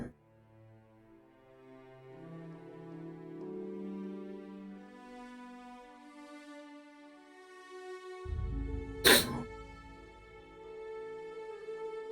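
A person with a runny nose and allergies lets out one close, abrupt sneeze, a short burst with a sharp peak over a steady droning tonal background.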